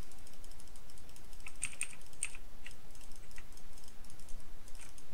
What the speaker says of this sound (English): this is how fast I click